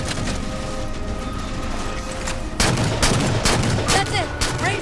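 DMR rifle gunfire in the Halo 4 video game: a dense rumbling battle backdrop, then a run of sharp, loud single shots in the last two seconds, with other game effects mixed in.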